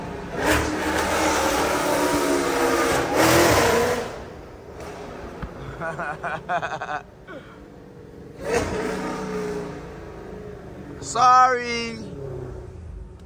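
A Dodge Hellcat Redeye engine revs outdoors in several bursts: a loud sustained roar at first, then sharper stuttering blips and a final rising rev, with brief quiet gaps between and a voice speaking once.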